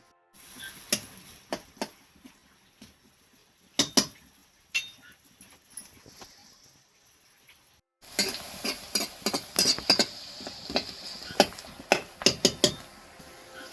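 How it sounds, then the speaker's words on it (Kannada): Onions hit hot oil in a pan with sparse clicks and light sizzling. The frying grows busier with rapid stirring scrapes and pops, close by and with no talk. "ಈರುಳ್ಳಿಯನ್ನು ಸೇರಿಸಿಕೊಳ್ತಿದ್ದೇವೆ ಎಣ್ಣೆಗೆ"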